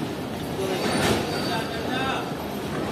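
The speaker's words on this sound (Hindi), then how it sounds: "तो ये हमारी 40 डाउन जाफर एक्सप्रेस निकल रही है रोड़ी जंक्शन रेलवे स्टेशन से" The Jaffer Express pulls out of Rohri Junction railway station with a continuous heavy rumble of rolling wagons and faint wheel squeal, close by and steady.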